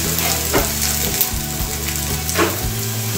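Chiles and garlic simmer in a pan for Mexican enchiladas verdes, giving a steady, close sizzle and crackle with a low hum beneath and a few soft clinks of stirring.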